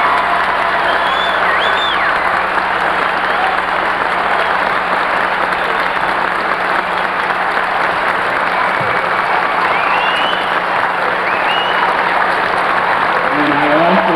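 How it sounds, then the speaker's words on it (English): A large audience gives a long round of applause for the year's inductees at an induction ceremony, a continuous loud wash of clapping with crowd noise and occasional cheers that holds steady for about fourteen seconds. "could we have a nice round of applause for all of this"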